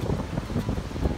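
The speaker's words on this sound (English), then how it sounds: "It is windy today" Gusty wind buffets the microphone at a beach in a low, rumbling roar that rises and falls continuously, with no voices.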